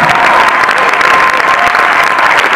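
Audience at a French film screening and debate for Mon Garçon applauds director Christian Carion and actors Guillaume Canet and Mélanie Laurent, a loud, dense, steady wash of clapping filling the hall throughout.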